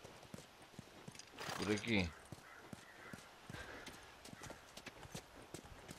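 Horse hooves clip-clop in the video game The Last of Us, a steady run of hoofbeats with a louder burst near the middle, heard under someone talking.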